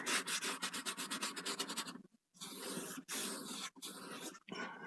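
A paintbrush scrubs paint into a canvas in quick rhythmic rasping strokes, close and soft, shifting to longer brushing passes with short pauses between them.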